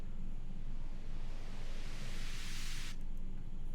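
A noise riser in an electronic music production swells upward in brightness over about three seconds and cuts off abruptly, laid over a steady low, dense backing of the track.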